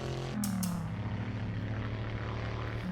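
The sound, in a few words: V8 engine of a racing car in a video game (Assetto Corsa)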